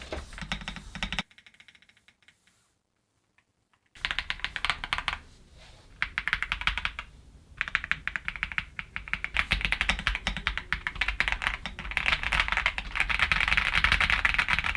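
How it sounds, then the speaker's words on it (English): Rapid, steady clacking of switches on a Varmilo VA80 Hygge mechanical keyboard, typed up close and alone, with a brief silent pause near the start before the keystrokes resume and grow denser. "let's go into a sound test so you can hear what the switches sound like for yourself"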